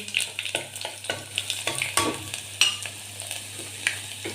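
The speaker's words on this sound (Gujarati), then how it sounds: "તો આપણું તેલ આવી ગયું છે, આપણે નાખશું એમાં રાઈ, જીરું, હિંગ, લસણની ચટણી" Mustard seeds, cumin, asafoetida and garlic chutney hit hot oil in a Kathiyawadi kitchen, giving a close, lively sizzle with sharp seed pops and crackles scattered irregularly throughout.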